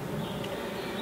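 Honey bees buzzing at an opened hive during a June beekeeping inspection, a close, steady droning hum.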